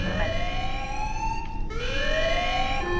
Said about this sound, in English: Alarm. Structural damage. Warning.